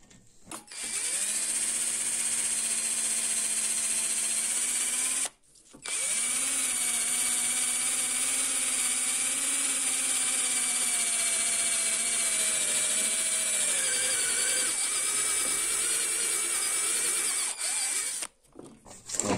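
Power drill with a small bit boring through hardened steel with a little oil, a loud, steady whine running almost continuously, broken by two brief pauses before the motor spins back up.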